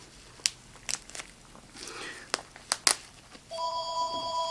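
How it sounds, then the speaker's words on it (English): Near the end, a telephone rings with a steady electronic tone in the background, after scattered crinkling and clicking from handling a toy device. "Now, okay, there's the phone."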